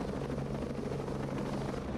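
Helicopter in the video game Ghost Recon Breakpoint, a steady, loud rotor drone with a low throbbing hum filling the whole stretch, no voices over it.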